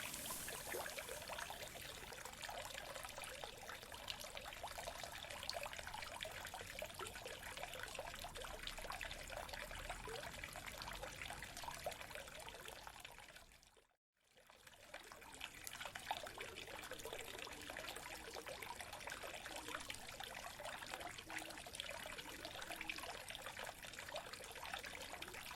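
Water runs steadily through one of the public fountains in Reims, a broad continuous rush and trickle with a brief dropout midway, with no voices.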